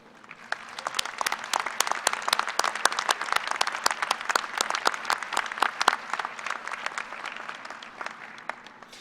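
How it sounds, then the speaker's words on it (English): An audience at a fall 2016 K-State university commencement for the College of Human Ecology gives sustained applause, many hands clapping in a dense, even roar that holds steady for the whole stretch. "Will you join me in a round of applause to thank them?"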